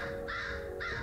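Crow cries from summoned minions in the action RPG Ghostlore, two harsh caws sounding in quick succession over a steady game-music drone.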